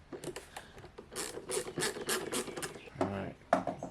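A Phillips head screwdriver backs screws out of a greasy air fryer with close, rhythmic scraping and ratcheting twists in short repeated bursts.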